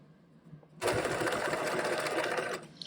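A sewing machine stitches a caddy bag's lining, starting abruptly after a near-silent moment and then running in a steady, loud, close whir before easing off at the end.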